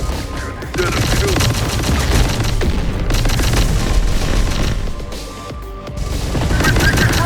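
Dense, loud gunfire in the Terminator: Dark Fate - Defiance video game, rapid automatic bursts and booms rattling almost continuously with only short dips between volleys.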